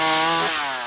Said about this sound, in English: using his skills with a chainsaw to create works of art out of tree stumps